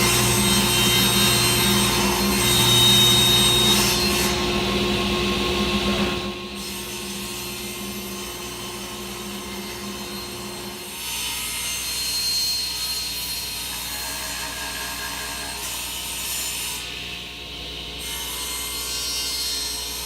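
A router cuts a 5/8 inch roundover along the edge of 3/4 inch Baltic birch plywood, a loud, steady high-pitched whine with grinding cut noise that shifts in tone as the pass continues.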